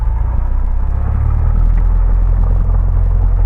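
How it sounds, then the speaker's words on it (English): A Cessna 172 engine drones at a steady, loud, low rumble inside the cockpit during a soft-field takeoff, continuous and without breaks. "Cessna 1294 Fox, taking off"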